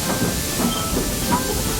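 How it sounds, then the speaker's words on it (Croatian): A train rolls along with a continuous steam-like hiss and a faint rhythmic clatter underneath, close and steady throughout. "Vozim vlak!"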